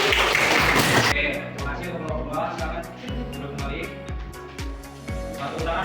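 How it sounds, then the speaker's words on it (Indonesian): A classroom audience gives a short burst of clapping for a student group's presentation, lasting about a second before a voice starts talking. "Oke, tepuk tangan buat kelompok 1."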